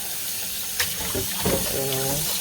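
Tap water runs steadily for rinsing while chicken thighs are cleaned with lemon and vinegar for cooking on the stove, a close splashing flow mixed with a few clinks and light knocks.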